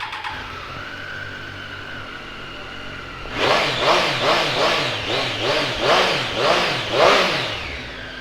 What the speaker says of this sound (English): Standard intake noise from a Triumph sounds fabulous